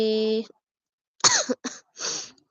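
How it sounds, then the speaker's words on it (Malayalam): A person coughs close to the microphone, with a short voiced sound first and then three rough bursts in quick succession. "ചുമ ചുമയുണ്ട്"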